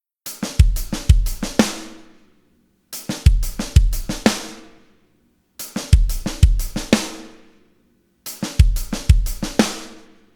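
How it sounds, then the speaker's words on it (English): Drum kit playing the first two beats of a groove four times over, kick and snare with a grace note and an accented snare hit, each short phrase ringing out before a pause, loud and close. "So 2E and 3 are both snare hits, with a grace note on the end of 2 and an accent on 3."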